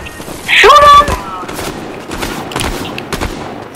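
A short burst of rapid gunfire in the video game Fortnite, loud and close, with players talking and shouting over the game sounds.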